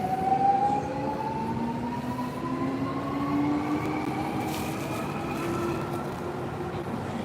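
Steady rumble of an express train running on rails in Tokyo, heard from inside the car, with a rising electric motor whine climbing in pitch as it speeds up over continuous track noise, no voices.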